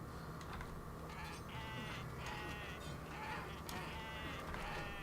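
Goats in the video game Kenshi bleat repeatedly during a fight. Several wavering, nasal cries overlap and come in bursts over a steady background of game noise.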